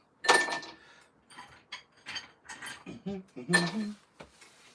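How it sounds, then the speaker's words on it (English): Ice cubes clink and rattle into a homemade glass of Canadian blended whiskey, a sharp cluster of clinks at the start and another burst near the end, with scattered clatter between. "we're just going to add a couple of ice cubes"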